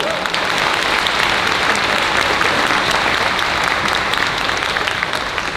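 Sustained, dense applause from a live audience at a Q&A event, loud and steady throughout without a break, filling the room with a continuous wash of clapping.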